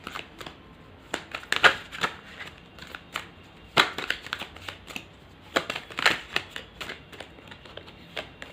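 A tarot deck is shuffled close up: irregular runs of soft card riffles and crisp snapping flicks that rise and fall, with no voices.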